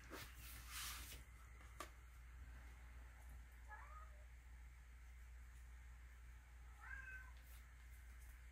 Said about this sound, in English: Now the cat's meowing.